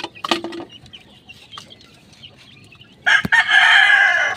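Bulik chickens cluck in short bursts near and far, then a loud rooster crows close by, drowning out the softer farmyard clucking.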